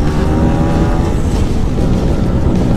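An old Vespa scooter ridden at full throttle, its engine droning loud and steady with constant rumble and wind noise, no letup across the stretch.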